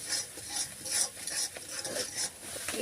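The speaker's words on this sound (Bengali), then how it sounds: "আবার একটু কষাবো ভালো করে।" Shrimp curry masala is stirred and fried in a pan, giving a steady scraping rustle with soft sizzling that swells and dips in repeated strokes, close and fairly loud, with no talking.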